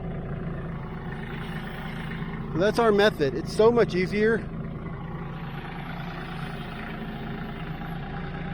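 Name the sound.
tractor engine idling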